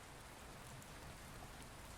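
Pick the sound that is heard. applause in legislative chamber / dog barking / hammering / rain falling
rain falling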